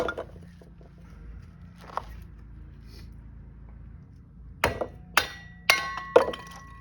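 Firewood being pounded down through a kindling cracker blade: a few faint knocks at first, then a series of sharp, loud woody whacks with clinks, close by and without talking.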